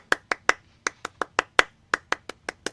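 Crowd at a live concert, Tralfalmadore Cafe in Buffalo, NY, 1999, clapping along in unison: about fourteen crisp, sharp claps in a steady, slightly uneven rhythm, close and clear with no talking.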